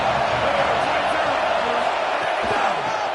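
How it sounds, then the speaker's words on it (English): Loud, dense roar of a big college football stadium crowd in Happy Valley on third down, a steady wall of cheering and yelling with a commentator talking over it. "Here comes the noise from this big crowd in Happy Valley on 3rd down."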